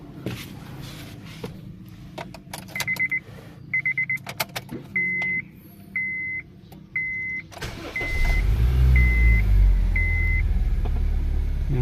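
A 1.8 litre automatic Honda Civic sounds a series of regular electronic beeps. Its engine then fires and settles into a loud, close, steady running rumble.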